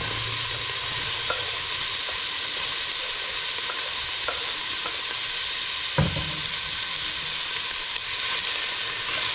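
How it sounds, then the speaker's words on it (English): Chopped onion frying in hot vegetable oil in a saucepan, a steady close sizzle with faint stirring clicks and one sharp knock partway through. "I've already got some vegetable oil heating up, and I'm going to put in one chopped onion"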